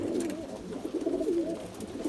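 Pigeons coo steadily in a coop on a rainy evening in İzmir, their low, overlapping rolling calls close by and continuous over a soft hiss of rain.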